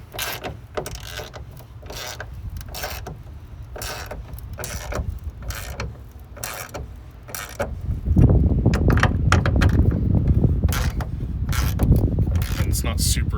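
Metallic ratcheting clicks and clanks from tightening hood strut bolts on a 1990s SN95 Ford Mustang, a steady run of quick close mechanical ticks that grows louder and denser partway through, with no talk.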